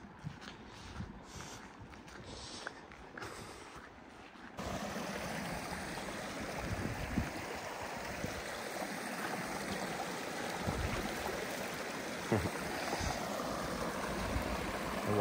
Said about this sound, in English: That water is just bubbling out of the ground right here.